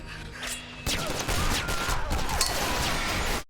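Gunfire from the science-fiction TV drama Torchwood, a burst of loud sharp shots that breaks in after a quieter opening and runs on densely to the end, with no speech.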